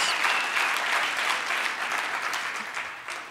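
Graduation ceremony audience at VUT Secunda Campus gives a long, dense round of applause, many hands clapping steadily throughout, full and even before tapering slightly at the end.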